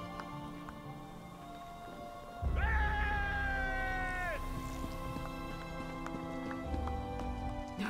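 Cats meowing in The Elder Scrolls Online: Morrowind video game, a loud, drawn-out wailing yowl with a few fainter mews, set against ambient game music and soft clopping.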